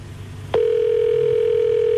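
A telephone line on a call in Québec, with a faint hiss that gives way to a sudden loud, steady single tone that holds to the end.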